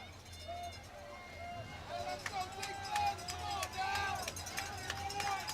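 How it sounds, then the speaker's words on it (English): Spectators at a 2A state championship high school football game between St. Johns and Scottsdale Christian roar in a broad, swelling crowd din that grows louder over several seconds, with scattered shouts and whistles inside it. "St. John's crowd getting loud."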